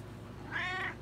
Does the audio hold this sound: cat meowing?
yes